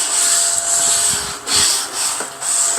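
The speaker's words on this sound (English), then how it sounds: "I do have my little handy dandy vacuum." A small handheld vacuum runs close by, sucking dust off a 1,000-piece jigsaw puzzle, with a steady high whine and shifting rubbing hiss as the nozzle moves over the pieces.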